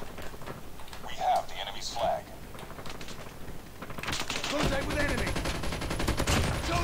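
Gunfire from Call of Duty Mobile: a first burst of rapid game shots stops, then a dense, louder rattle of automatic fire takes over and runs on steadily to the end, with someone talking over parts of it.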